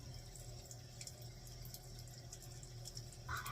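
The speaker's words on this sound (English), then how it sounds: "I'm trying to just rinse it off real quick." Tap water runs steadily into a sink as blue hair dye is rinsed out of blonde hair, a faint, even rush with soft splashing near the end and no talking.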